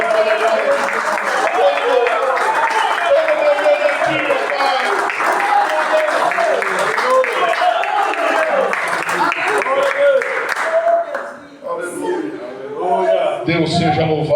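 A church congregation claps in praise during a worship service: dense, steady applause throughout, with crowd voices mixed in, thinning briefly near the end before picking up again.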